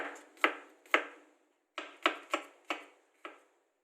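A knife slicing garlic thinly on a cutting board for khao soi paste, with seven crisp, sharp chops spaced irregularly, close and clear with silence between them.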